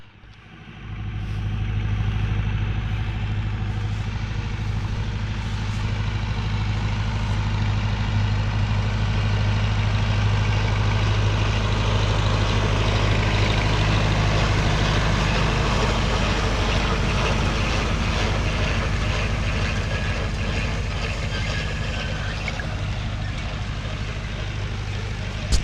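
Vintage tractor engine running steadily while turning hay, a low, even drone that starts abruptly and holds for the whole stretch, close and fairly loud, with no talk over it.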